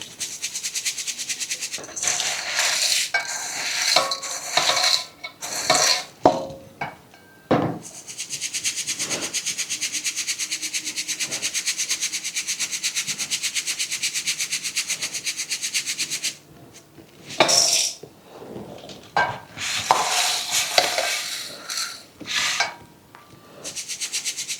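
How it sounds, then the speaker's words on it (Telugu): Dry flattened rice (poha) being sifted to shake out dust, a steady rough rustling and scraping that runs for long stretches, broken by pauses and louder jolts. "అటుకులు తీసుకొని జల్లించుకుందాం. ఇట్లో ఏమైనా డస్ట్ దుమ్ము ఉండపోతుంది."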